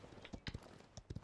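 Quick hoof clip-clops of a horse in the video game Paladins, a few uneven pairs of hollow knocks over a soft steady background, close and fairly quiet.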